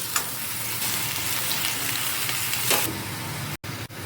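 Bottle gourd pieces hit a hot tempering and fry with a loud, steady sizzle, broken by a couple of brief stirring pauses near the end, with no voices.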